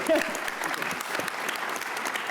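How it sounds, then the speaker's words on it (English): An audience at a university gathering cheers and claps in a steady, dense wash of applause that fills the whole moment, loud and close, with no single voice standing out. "Let's give her a cheer."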